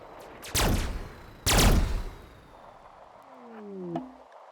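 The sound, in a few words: turret gunfire in video game RimWorld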